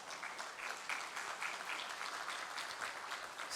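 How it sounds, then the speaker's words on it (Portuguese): An audience at a conference panel on risk matrices in public works applauds in a steady, moderately distant wash of clapping throughout, with no voices over it. "Carlos Eduardo Lima Jorge, a quem eu peço uma salva de palmas."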